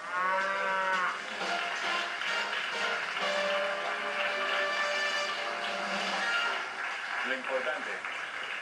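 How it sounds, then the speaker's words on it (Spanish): A cow moos several times in long, drawn-out calls that rise and fall. The calls are fairly loud and close, and they follow one another with only brief gaps. "Mira, ahí va la vaca."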